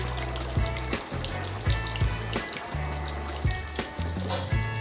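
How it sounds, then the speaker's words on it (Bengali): Marinated fish fries in hot oil as the pieces are turned over, giving a steady close sizzle broken by a series of short crackling bursts and clatters. "এরপর মাছগুলো ভালো করে তেলে উল্টে পাল্টে ভেজে নেব।"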